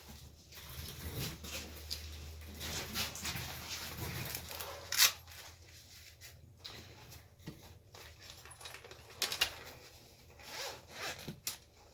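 The zipper on a microphone carrying pouch is pulled open in several short, close rasping strokes, with quiet handling rustles and rubbing in the pauses between them.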